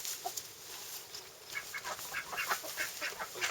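Backyard poultry, chickens and a young rooster among them, make faint clucks and calls at a distance, scattered bursts that grow busier toward the end.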